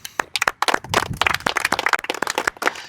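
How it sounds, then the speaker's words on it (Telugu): Live audience at a public safety talk about cricket and youth applauds, a dense burst of many hands clapping close and loud for about three seconds with no talking over it. "నిజంగా క్లాప్స్ కొట్టండి."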